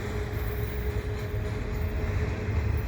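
A Canadian Pacific freight train led by a CM&Q locomotive creeps slowly past near a bike path, a deep steady engine rumble with rolling wagon noise and a faint tonal whine, close and unbroken.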